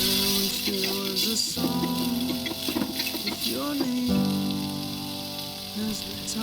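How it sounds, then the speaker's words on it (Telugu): Sliced onions frying in oil until light golden, a steady close sizzle and crackle with tonal hum and faint clatter throughout. "లైట్ గోల్డెన్ కలర్ వచ్చే వరకు రోస్ట్ చేసుకోవాలి వేగనివ్వాలి"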